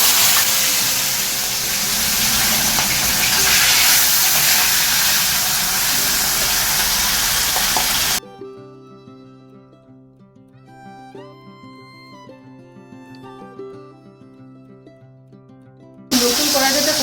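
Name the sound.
salted turmeric-rubbed fish frying in hot oil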